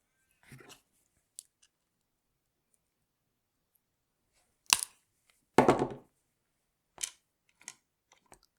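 A mosaic piece for a walled-shape baby's room mosaic is cut, heard as a few sharp, isolated snips and cracks, close and crisp, separated by long stretches of near silence.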